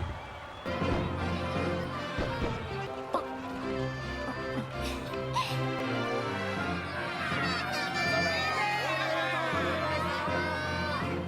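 A crowd of citizens cheering, a dense continuous roar of voices with whoops and shouts, loud and sustained throughout, with occasional clopping and music-like tones mixed in.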